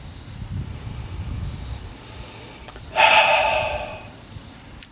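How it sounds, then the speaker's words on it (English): Soft breathy noise, then a short, sharp inhale around the three-second mark as beer aroma is sniffed from a can, followed by a small click at the end; no one speaks. "I wanted to sniff it right out of the can"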